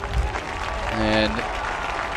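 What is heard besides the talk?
stadium crowd applauding football player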